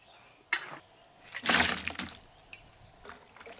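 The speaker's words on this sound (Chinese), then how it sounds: "现在就把这个肉捞上来，滴干水，再过一下油锅。" Meat being scooped out of cooking water with a slotted spoon in a home kitchen, giving wet splashing and dripping, loudest in one burst mid-clip, with lighter drips before and after.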